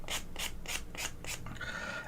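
A sanding pad rasps rhythmically over a miniature Kromlech Greenskinz model, five even strokes in close succession, followed by a softer, smoother rub at the end.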